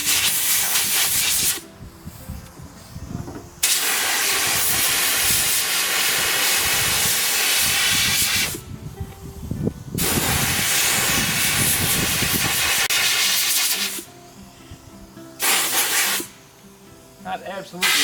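An air compressor nozzle blasts dust off fireplace parts in several long, loud hissing bursts broken by short gaps, close by, with faint talk in the pauses.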